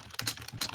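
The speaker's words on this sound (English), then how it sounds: "I heard Monkey typing up a storm on that one" Quick, close computer keyboard typing, a short flurry of crisp key clicks in an uneven rhythm, with no voices.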